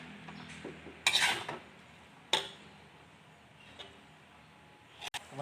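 Fried rice made from instant ingredients is scraped and moved from a pan onto a plate, giving a few sharp clinks and scrapes of utensil on cookware amid quiet kitchen ambience.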